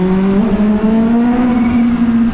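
A Kawasaki Ninja H2 motorcycle accelerates hard through an underpass on a night ride in Lahore, its engine note rising steadily and loud, close up with no talk.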